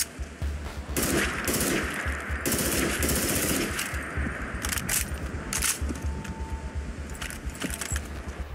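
Honey Badger assault rifle in Fallout 4 with weapon mods, rapid automatic bursts of gunfire in several long and short volleys with mechanical clicks between them, loud and close, no talking.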